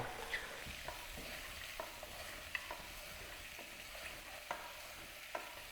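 Mutton paya is stirred and fried in a pan, with a soft, steady sizzle and regular light scrapes and clinks of a spoon against the pan, faint and close.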